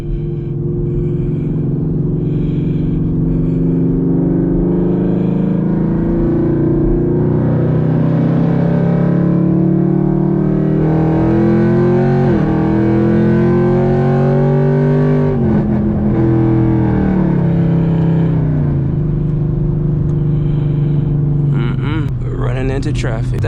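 Chevrolet Camaro SS with FBO engine pulls hard through the gears on a freeway, a loud close exhaust drone rising in pitch, dropping at each shift and climbing again, with a voice talking over it.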